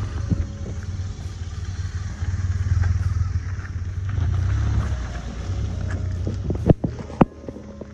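Heavy 220 kg touring motorcycle idling beside a wooden bridge on an off-road route in Poland, a steady close, loud low engine rumble that carries throughout, with a couple of sharp knocks near the end.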